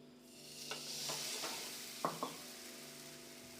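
Puran poli roasts on a hot griddle with a faint, steady sizzle. A few soft scraping taps from turning or pressing the flatbread break into it.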